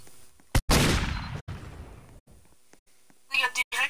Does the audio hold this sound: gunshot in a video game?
yes